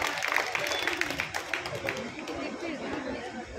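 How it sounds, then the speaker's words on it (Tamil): Audience at a birthday greeting claps together in a room, a moderate patter of hand claps mixed with murmuring chatter, fairly even throughout. "அனைவரும் அவர்களுக்கு கைத்தட்ட"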